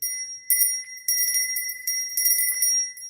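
A small Bell of Hope from a chemo infusion center rings several times in quick bursts, bright, clear metallic tones that linger briefly between strikes, close and alone.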